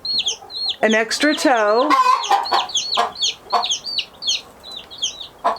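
Salmon Faverolles hens, a feathered-footed breed, cluck close by in a rapid series of short, chattering calls, with a few longer squawks early on, as a person talks briefly over them.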